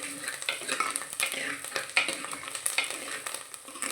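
Sliced onions sautéing in oil with curry leaves and green chili for a Kerala-style fish curry, a steady close sizzle broken by frequent stirring scrapes and light clicks of a spoon against the pan.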